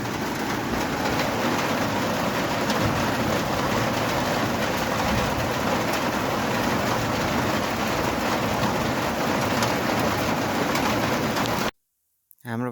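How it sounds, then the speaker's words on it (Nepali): Heavy rain pours down outdoors at home, a dense, steady roar that holds unbroken for nearly twelve seconds before cutting off abruptly. "ठुलो पर्नु रहेछ पानी चाहिँ।"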